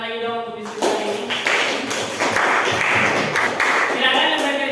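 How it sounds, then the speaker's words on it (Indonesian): A classroom group claps after a literature discussion lesson, a burst of scattered, crisp applause rising after a brief spoken moment at the start and continuing evenly to the end. "Kita tepuk tangan lagi dong untuk diskusi kali ini."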